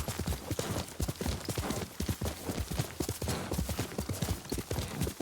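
Horse hooves clip-clopping in the video game Ghost of Tsushima, a steady galloping rhythm of sharp thuds on the ground, continuous and close.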